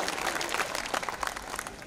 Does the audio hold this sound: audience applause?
yes